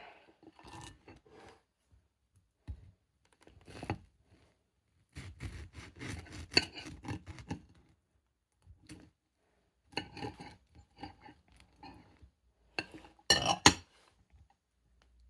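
Cutlery scraping and clinking against a plate while a freshly cooked pancake is cut open, in scattered bursts of soft rasping and small clicks with quiet pauses between them and a sharper clink near the end.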